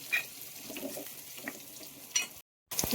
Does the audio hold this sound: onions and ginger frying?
yes